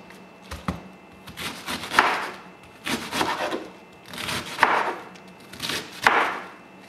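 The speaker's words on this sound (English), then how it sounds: "I'm just going to start off with 3/4 of it quick. So I'm going to cut this up." A knife shreds cabbage on a cutting board in four or five bursts of crisp, rasping slicing strokes, each a cluster of quick cuts separated by short pauses, close and fairly quiet.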